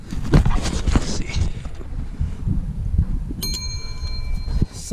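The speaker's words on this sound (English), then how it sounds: "Sounds like a bell." A bell rings clearly with several sustained tones, struck once and ringing on, heard beside a Ford Escape SE 2017 during an outdoor DIY oil change, over wind and handling noise with some low rumble.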